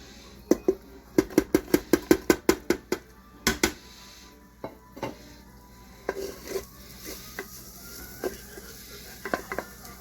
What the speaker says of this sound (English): We're sauteing them up and then we'll move on to the chicken.